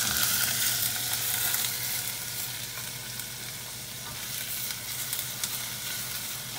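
Chopped ginger and sliced green peppers fry in oil for tomato chutney, giving a steady, close, even sizzle that hisses on without a break for the whole stretch, with no talking.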